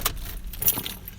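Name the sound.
car being turned off with keys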